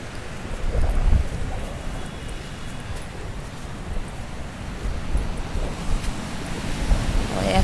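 Sea waves wash onto a beach, a loud continuous roar of surf mixed with wind buffeting the microphone, swelling and easing in irregular surges.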